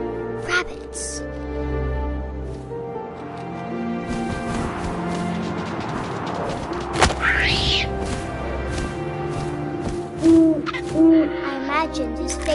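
An owl in the video game What Remains of Edith Finch gives soft hoots over a wind-like ambient bed, with a narrator talking throughout and a few brief sharp accents near the end.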